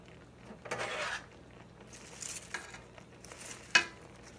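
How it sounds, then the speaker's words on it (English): Food going into a cooking pot in a home kitchen at Thanksgiving, soft scraping and clattering bursts with a short sharp clink near the end, fairly quiet and without talk. "So I'm going to put this over in the pot"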